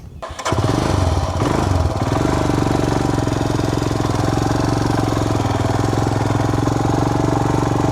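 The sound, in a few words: Royal Enfield Himalayan BS6 motorcycle engine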